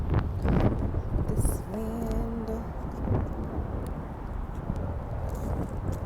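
Strong outdoor wind buffets the microphone in a constant low rumble that swells and gusts throughout, with a faint voice and a brief tonal hum heard partway through.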